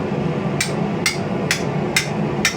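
A hammer strikes a flat chisel on metal at a treadle hammer, five sharp ringing blows about half a second apart, close and loud, with no talk.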